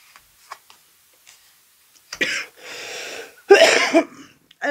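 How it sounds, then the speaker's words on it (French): A few coughs, the last ones loud and harsh, following faint scattered ticks in near silence. "pardon, excusez-moi, j'ai encore ma toux"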